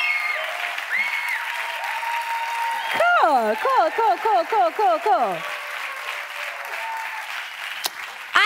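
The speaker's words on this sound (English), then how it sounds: "applause by, made by real hands, not just emojis" Applause from a live award-show audience, steady clapping under a host who talks and speaks over it, with a musical or tonal sweep in the middle.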